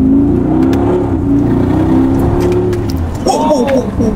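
A Mercedes G-Class engine revs loudly and rises in pitch inside the cabin, a deep steady drone that climbs toward the end while people talk over it.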